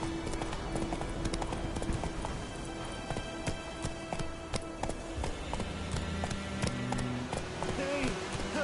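The horse Roach gallops in Witcher 3, hooves clip-clopping in a rapid steady rhythm across most of the clip, with faint game ambience and music tones beneath.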